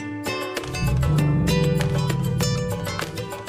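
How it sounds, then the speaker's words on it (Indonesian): A frightened elephant trumpets and calls in a recording, a loud, harsh blast riding over a deep rumbling undertone and sustained for several seconds without any speech. "Ini adalah rekaman suara gajah yang sedang ketakutan."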